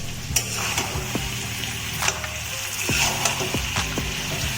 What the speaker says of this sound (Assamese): মাংসখিনি লৰাই দিছোঁ